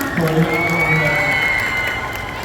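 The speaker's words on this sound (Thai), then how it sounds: "ขอเสียงปรบมือให้กับทุกท่านที่อยู่ที่นี่ด้วยฮะ" Audience at a Brother presenter launch event with the group Proxie claps and cheers together, a dense, steady wash of applause and crowd noise holding for a couple of seconds with voices mixed in.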